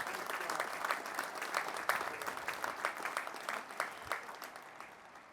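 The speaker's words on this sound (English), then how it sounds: "Round of applause." Applause from a commencement audience fills the space with dense, steady clapping that swells in a few waves and gradually thins toward the end, heard fairly distant and soft.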